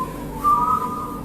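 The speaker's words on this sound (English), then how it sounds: "let's try to whistle that like in voices" Several people whistle a tune together in harmony inside a stairwell, a short, clear, echoing whistled phrase that swells briefly.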